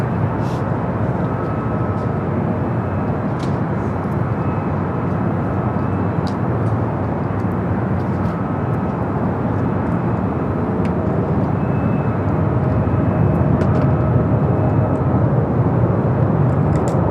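Lufthansa Boeing 777-200ER airliner landing on runway 25 left at Los Angeles airport, a steady broad engine roar holding level throughout and swelling slightly near the end, with no talk.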